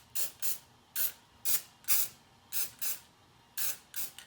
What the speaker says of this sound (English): Let's hit it with the MPPL spray.